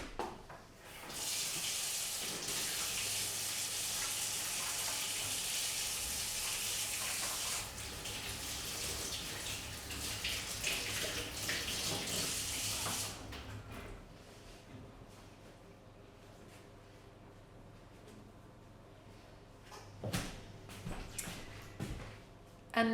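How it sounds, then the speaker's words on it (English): Tap water running steadily into a sink while hands are washed, a loud continuous splashing rush for about twelve seconds, then the flow stops, leaving quieter handling and clatter nearby. "I'm just going to wash my hands now."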